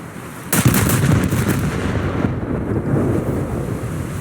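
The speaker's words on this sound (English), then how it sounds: "Oh, you'll be able to see the gunfire of the ship." Heavy battleship gunfire in a naval combat video game featuring HMS Queen Mary: a loud deep boom strikes suddenly and rolls on as a long rumbling roar with no talk over it.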